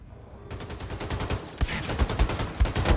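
Rapid bursts of gunfire crack and rattle in quick succession, dense and loud, from automatic weapons in the action game Wolfenstein II: The New Colossus.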